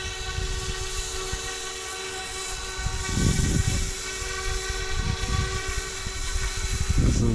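An F06 EC135 RC helicopter spins up and lifts off outdoors in light wind, its steady high motor whine and rotor hum rising in loudness midway and holding close by.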